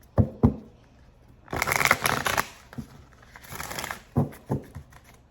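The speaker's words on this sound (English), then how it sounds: "Let's get one more shuffle." Tarot cards being shuffled: crisp riffling bursts and a few sharp taps and slaps, close by, with quiet pauses between handlings.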